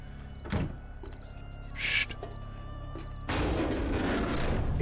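In the survival game 7 Days to Die, a door opens with a mechanical whir and scrape, followed by a louder, sustained grinding rumble, all fairly close and heard alone.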